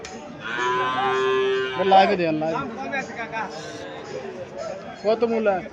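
Cattle moo at a busy cattle market in Chandimura, Comilla, where Sahiwal bull calves are sold: one long, loud, harmonic low moo runs through the first couple of seconds, followed by market chatter and another short moo near the end.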